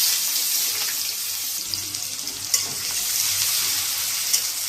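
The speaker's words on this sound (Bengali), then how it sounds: "এবার দিয়ে দেবো এই কেটে রাখা পেঁয়াজগুলো।" Chopped onions sizzling in hot oil seasoned with cumin and garam masala, a steady bright hiss close up, with a few soft clinks and stirring scrapes.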